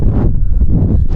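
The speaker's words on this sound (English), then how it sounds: "Bloody hell, it's windy." Heavy wind buffets the microphone outdoors at a car drag race, loud, low rumbling gusts rising and falling throughout the short moment.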